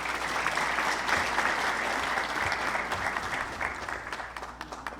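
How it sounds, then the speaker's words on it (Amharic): An audience at a humanitarian aid gathering breaks into warm applause, dense sustained clapping close by that thins out and tapers toward the end, with no talk over it. "ሁላችሁንም ለራሳችሁ ሞቅ ባለ ጭብጨባ አመስግኑ"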